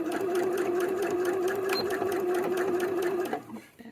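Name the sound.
sewing machine back stitching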